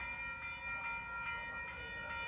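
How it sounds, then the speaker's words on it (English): A distant train rumbles with steady humming tones and faint rhythmic clicks, approaching at a moderate level along the Port Union waterfront in Scarborough, Toronto. "So we have a train coming now."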